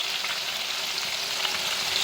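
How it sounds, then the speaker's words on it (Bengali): Onion, dry red chilli and bay leaf frying in hot oil give off a steady, dense sizzling hiss, close and continuous with no voices. "তো চলো এটা ভাজা ভাজা হয়ে যাক"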